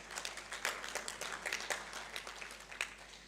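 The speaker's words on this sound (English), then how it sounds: "Please give yourselves a round of applause for a fantastic launch." Audience applause breaks out at a launch celebration, a steady, dense wash of many hands clapping at moderate distance, fairly quiet and continuous with no voices.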